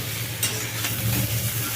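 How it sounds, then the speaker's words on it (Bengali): Ridge gourd and potato pieces being stir-fried in a pan, a steady close sizzle with scraping spatula strokes running throughout. "নেড়ে ভালো করে ভেজে নেবো।"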